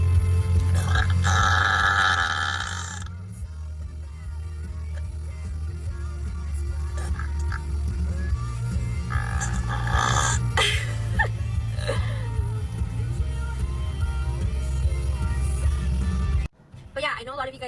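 A woman burps loudly at the gym before a leg-day session, with several long, deep belches spread through the stretch and breathy sounds between them.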